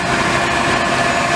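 A Case IX tractor idles during a show machinery parade, its engine giving a steady, continuous rumble with even vibration throughout, close and fairly loud, with no talk over it.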